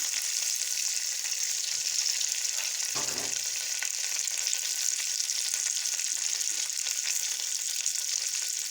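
Curry leaves fry in hot oil in a clay pot while bitter gourd curry is being cooked, giving a loud, continuous sizzle. A brief stir or splash comes about three seconds in, and nobody speaks.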